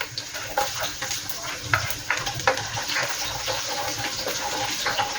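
Garlic sautés in a pan for Spanish sardines pasta, a close, watery crackle with frequent small pops and spits running continuously throughout.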